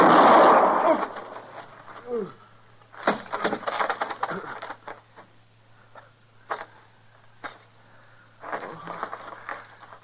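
A single sharp gunshot from a revolver in a western radio drama set in the Old West frontier, ringing out once at the start before tense spoken dialogue between two men follows.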